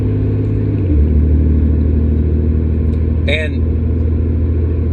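A truck engine rumbles steadily and loudly from inside the cab, a deep constant drone with a slight rise in pitch early on, while someone talks over it.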